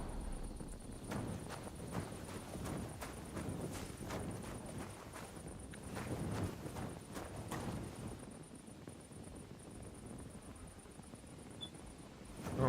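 Rhythmic hoofbeats of a horse clip-clopping in a medieval fighting video game, a steady series of moderately loud hoof strikes that thins out over the last few seconds.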